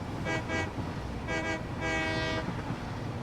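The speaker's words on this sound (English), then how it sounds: "I feel like it's very important that I constantly sound the horn." Train horn in the video game Satisfactory, sounding in three blasts, two short toots followed by a longer one, over a steady rumble of the moving train.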